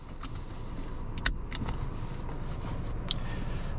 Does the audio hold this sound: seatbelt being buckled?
yes